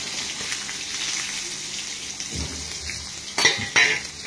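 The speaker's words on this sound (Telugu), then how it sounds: "ఎల్లిగడ్డ ఇవన్నీ వేసి ఫ్రై చేసేసుకోవాలి కొంచెం" Sliced onions, tamarind and garlic frying in a pan, a continuous moderate sizzle with two sharp metallic clinks of a utensil near the end.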